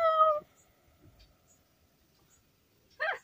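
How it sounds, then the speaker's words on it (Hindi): A domestic cat meows in a home kitchen, one clear, tonal meow at the start, then near silence with faint movement, and a second shorter meow near the end. "चिश चिश बिल्ली आ गई"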